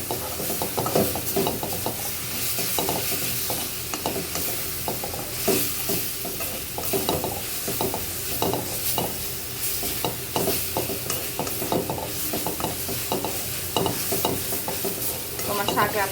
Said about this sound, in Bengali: এই যে রসুনের সাথে কিন্তু শাকটাকে বাগার দিয়ে নিলাম